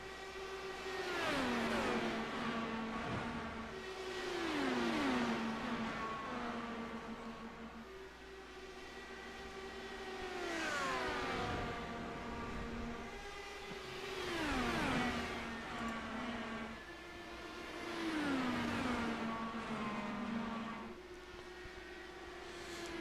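IndyCar race cars in the iRacing sim pass in repeated waves, high-revving engines swelling and dropping in pitch as they sweep by, with gear shifts audible in a steady rhythm of passes over several laps.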